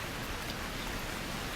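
Steady, even rain falls in the video game Villagers, a dense unbroken hiss that fills the short stretch at constant loudness with no voices over it.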